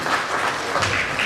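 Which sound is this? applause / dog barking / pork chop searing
applause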